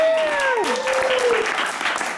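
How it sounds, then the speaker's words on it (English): A game show audience applauds a contestant named Stephanie with steady, loud clapping throughout, while a bright whistle-like tone glides down at the start. "Give one more round of applause to Stephanie"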